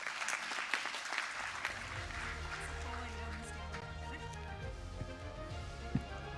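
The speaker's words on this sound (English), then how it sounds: "Loud round of applause once more for this business wizard." Faint, distant applause from an audience at a business summit and award night ripples on under a low electrical hum, with a few sharper claps standing out near the end.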